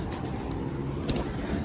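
Pigeons coo inside a pigeon loft used for pigeon keeping, a steady low murmur of soft calls within a constant, noisy background.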